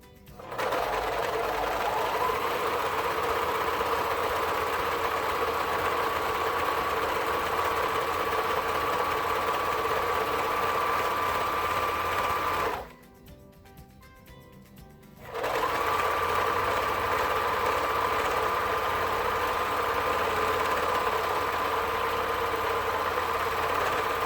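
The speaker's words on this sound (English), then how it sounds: "we're going to go back over it with serging" Serger overlocking the side seam of a swimsuit, a steady loud mechanical whir running continuously, with a brief pause partway through before the machine resumes.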